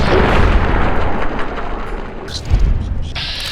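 Heavy gunshots ring out in Fallout New Vegas as a rat is shot, loud booming blasts close up with a brief sharp report near the end.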